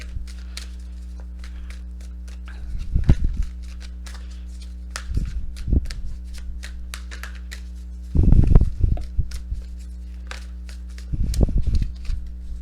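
Tarot cards being shuffled by hand in four short bursts of riffling and rustling, close and fairly loud, separated by pauses over a steady low hum.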